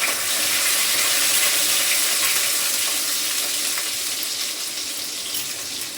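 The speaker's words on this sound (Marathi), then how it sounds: "कांदा परतून घेते थोडासा." Onion fries in a hot pan, giving a dense, steady sizzling hiss that holds evenly throughout and fades slightly toward the end.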